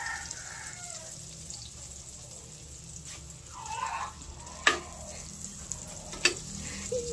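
Butter melting in a pan: a steady low sizzle with faint crackles and a couple of sharp pops or utensil clicks, close and alone with no talking.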